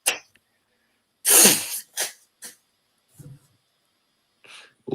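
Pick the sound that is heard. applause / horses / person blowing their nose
person blowing their nose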